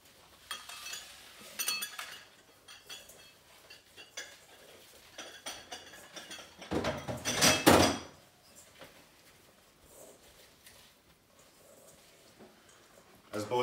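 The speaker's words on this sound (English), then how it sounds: "As Bo is mixing the slaw" Coleslaw being stirred in a bowl by a chef, giving scattered light clinks and scraping of a utensil against the bowl, with a louder burst of mixing midway, in a quiet kitchen.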